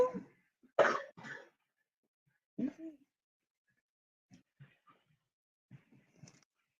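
Children sick with the flu cough indoors: a couple of strong, harsh coughs at the start, another burst a little later, then several fainter, scattered coughs trailing off into quiet.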